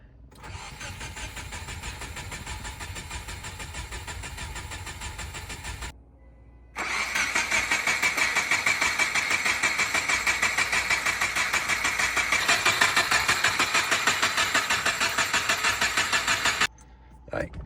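A Subaru WRX engine swapped to an EJ20X cranking over without catching, crank sensor unplugged, a rapid rhythmic churning of the starter in two long bursts separated by a brief pause.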